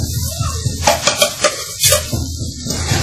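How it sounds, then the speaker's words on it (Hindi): Chana dal with salt, red chilli, black pepper and turmeric fries in a pan for dhaba-style dal fry, a close sizzle broken by a spoon stirring and scraping against the metal. "अब इसको अच्छे तरीके से फ्राई करेंगे। हमारी फ्राई हो रही है अच्छे तरीके से।"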